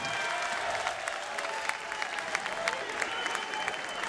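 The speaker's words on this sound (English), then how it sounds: "a round of applause for the fighters" Boxing arena crowd applauds the fighters after ten rounds, a continuous, fairly even wash of clapping with some sharper claps poking through, no talk over it.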